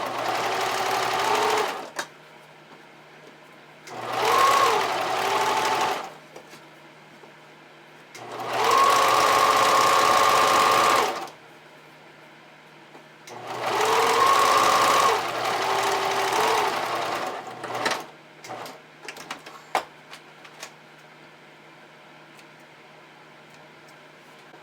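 A sewing machine top stitches elastic on panties in four separate runs of a few seconds each, with pauses between them and light clicks and handling sounds near the end.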